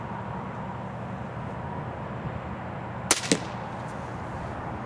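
.22 Short rifle test shot: one sharp crack rings out partway through, followed almost at once by a second brief crack or echo, against quiet outdoor background noise.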